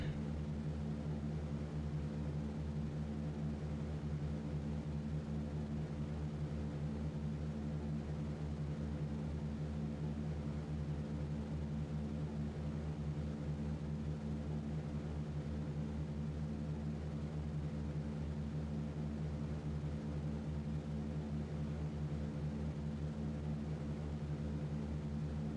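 Propeller airplane engine in a flight simulator game, a steady droning hum with strong low harmonics holding constant throughout the takeoff run, loud and continuous with no talking.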